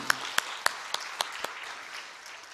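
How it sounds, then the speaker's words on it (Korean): A church congregation at a special dawn prayer service claps in a series of about six evenly spaced, sharp claps, then trails off into quiet room sound. "박수 한번 합시다."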